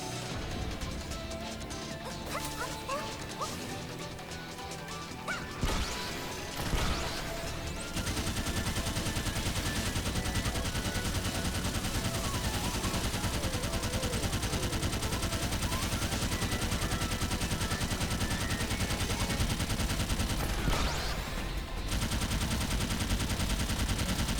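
Rapid, sustained automatic gunfire from the World's End gun in the video game Sword Art Online: Fatal Bullet, loud and dense, with a brief break before the firing resumes and runs steadily on.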